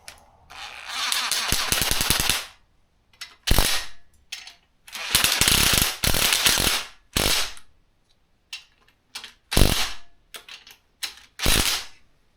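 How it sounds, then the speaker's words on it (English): A ratchet runs bolts into a 1976 BMW 2002 engine during assembly, sounding in separate bursts of rapid, close mechanical clicking with brief quiet gaps between them. "So I'll just run these bolts in and go from there."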